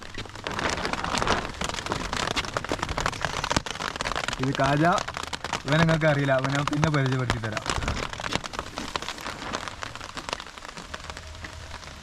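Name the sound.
heavy rain falling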